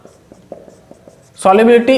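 A pen writes a definition by hand during a chemistry lesson, giving faint, brief scratching strokes in a quiet room before a voice starts speaking loudly.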